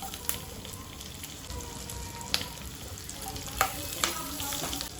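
Butter and oil sizzle steadily in a pan with bay leaf, cumin, curry leaves and green chilli, giving a close, even frying hiss broken by scattered pops and light stirring clicks.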